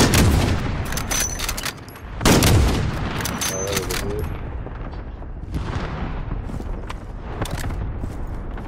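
Dense gunfire in the Warzone video game: repeated sharp shots and bursts with heavy booms, loud and close, with brief radio-like effects between volleys.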